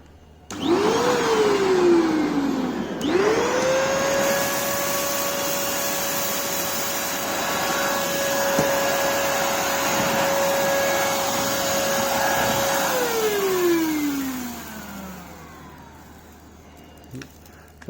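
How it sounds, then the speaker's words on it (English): A Eureka Forbes Sure Active Clean vacuum cleaner starts up with a rising whine, cuts out briefly, spins up again and runs with a steady loud drone while sucking up rice grains from the floor, then winds down and stops. "So I've plugged in the vacuum cleaner now,"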